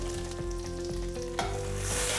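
Whole cinnamon, cumin seed, cardamom and cloves frying in melted butter, giving a dense close sizzle with a steady hum underneath, a sharp clatter partway through and a brighter hiss at the end, no voices.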